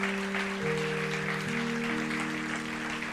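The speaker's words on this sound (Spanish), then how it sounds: "Dale un fuerte aplauso al Señor por eso" Steady clapping from a church congregation, held over sustained keyboard chords that shift pitch partway through.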